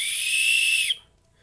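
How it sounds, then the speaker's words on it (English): A small keychain survival whistle blown softly gives one steady, shrill, piercing tone lasting just under a second before it cuts off to near silence. "Another whistle."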